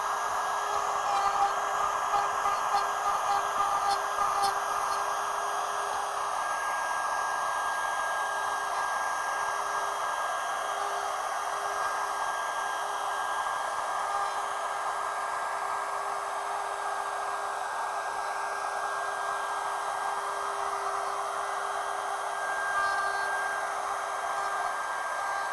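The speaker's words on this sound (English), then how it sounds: "Start the router back up and we'll cut those out." A router runs steadily for the whole stretch, cutting wood for a rose intarsia inlay, making a constant high whine and hiss with no pauses and no voices.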